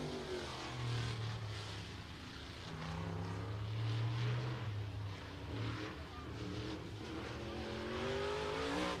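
A race car runs laps on a short oval track at F8 Showtime Speedway in Pinellas Park, Florida, its engine droning steadily and fairly loud with rising and falling pitch for the whole stretch, no voices over it.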